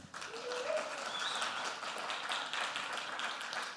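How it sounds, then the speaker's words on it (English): A crowd applauds with dense, steady clapping that continues throughout, fairly distant and moderately quiet, with some voices mixed in. "Can we give it a round of applause?"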